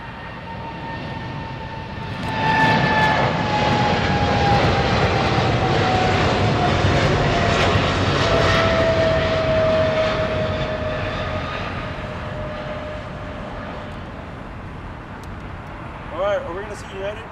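An Air China cargo jet begins its takeoff roll at LAX, its engine roar building from a distant rumble into a loud sustained whine with a falling tone, holding steady before slowly fading; voices talk over it.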